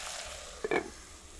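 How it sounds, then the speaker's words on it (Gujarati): Ground chili frying in a pan of vegetables gives a quiet, steady sizzle, with a brief louder sputter of bubbling oil near the middle before settling back. "અને હવે ઘડીક આમને કકડવા દઈએ"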